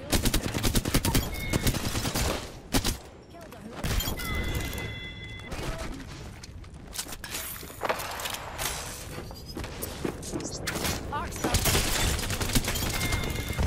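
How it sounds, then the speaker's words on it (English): R-99 submachine gun fire in Apex Legends, rapid loud bursts of automatic shots crackling in quick succession, mixed with other gunfire, impacts and in-game clatter throughout. "I heard R9 shots like way over here"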